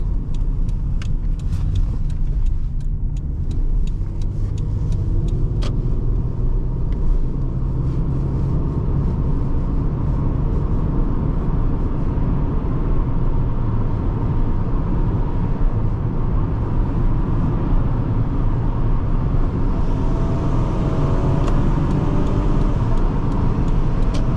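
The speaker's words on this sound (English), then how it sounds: "Let's take her out on the freeway for a little bit, get a feel for how she drives there." A 1999 Toyota Camry LE V6 cruises on a freeway, with a steady, continuous drone of engine, tire and road noise from inside the car and no breaks or voices.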